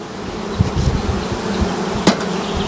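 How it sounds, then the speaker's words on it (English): Honey bees buzz continuously inside an opened hive, a close, dense hum with a couple of brief louder bumps. "There's a lot of bees."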